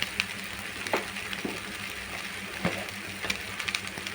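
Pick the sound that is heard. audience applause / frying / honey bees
frying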